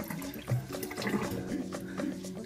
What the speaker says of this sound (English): And we'll just rinse that off with some water.